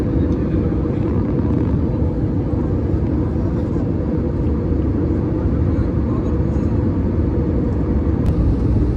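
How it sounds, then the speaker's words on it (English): Steady, loud airplane cabin roar with a constant low engine rumble throughout, unchanging and heard from inside an Airbus A320 descending into Kathmandu. "The descent has started and the plane is descending down"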